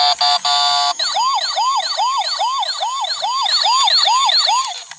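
A loud electronic siren from a toy fire rescue truck wails in fast repeating rising sweeps after a brief steady tone, close and continuous.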